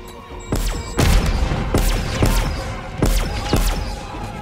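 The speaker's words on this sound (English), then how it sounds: "the ray gun makes this so easy" Ray gun blasts in Call of Duty Modern Warfare Zombies, a string of sharp, loud booming shots at an uneven pace of roughly one or two per second, heard up close over a steady rumbling game background.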